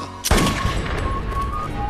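A sharp, loud gunshot cracks out, followed by a sustained burst of rumbling, echoing gunfire noise.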